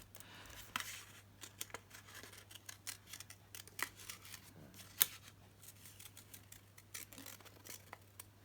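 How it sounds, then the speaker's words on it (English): Scissors snip roughly around a printed paper design in a craft project, making a quiet series of small irregular cuts and rustles, close by and fairly faint. "I'm just going to fussy cut around part of the design, just a rough fussy cut."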